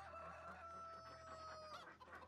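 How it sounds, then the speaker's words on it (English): Chickens clucking in Farming Simulator 19, a close rooster-like crowing call with clucks over a low farmyard hum, heard alone. "I've got chickens and ducks in here, okay."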